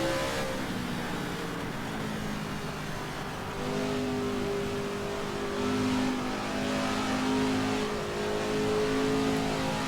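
A 1965 Indy 500 race car in Assetto Corsa screams at steady high revs, with the pitch sliding up and down through gear changes, a continuous loud engine note with no talk.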